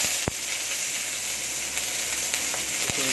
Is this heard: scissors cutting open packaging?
no